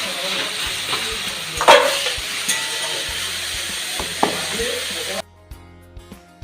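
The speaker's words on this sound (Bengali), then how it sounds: "এদিকে বড়া ভাজা চলছে আর সাইডে চলছে বাঁধাকপি রান্না" Lentil fritters (dahi bora) frying in hot oil, a steady sizzle with a few sharper hisses and stirring clatters, ending abruptly in near silence.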